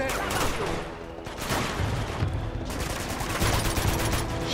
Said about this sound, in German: Oh, ich höre da schon wieder irgendwelche Schüsse vom Panzern.